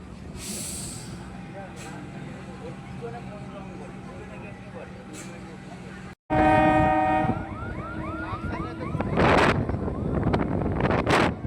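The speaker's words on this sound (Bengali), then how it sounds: "আমাদের ট্রেন এসে পৌঁছালো কল্যাণপুর স্টেশন" A local train on the Sealdah to Diamond Harbour line rolls into Kalyanpur station, a low rumble of wheels and carriages, then a loud, close, sustained horn blast and clattering as it slows, with voices nearby.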